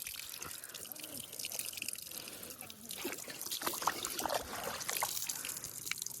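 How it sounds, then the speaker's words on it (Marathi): Water trickles and splashes steadily as it is poured or drained out, a continuous wet rush with faint background noise. "हे बघा पाणी काढ पूर्ण पाणी काढून टाक"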